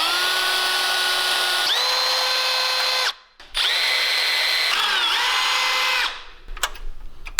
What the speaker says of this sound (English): So we'll get those holes drilled real fast.